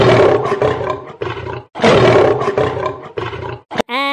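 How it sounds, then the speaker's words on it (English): A loud lion roar repeats in several long, rough bursts, then breaks off in a short rising growl at the end. "L for lion."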